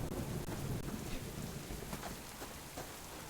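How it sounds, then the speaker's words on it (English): Rain falls in the survival video game Subsistence: a steady, dense hiss of rainfall with faint rumbling underneath, fairly quiet and continuous throughout. "there comes the rain"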